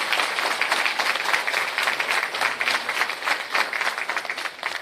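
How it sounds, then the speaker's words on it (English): Graduation-ceremony audience for a sexual harassment investigation training course gives a round of applause, a continuous, even wash of many hands clapping at steady loudness throughout. "I beg you another clap, please."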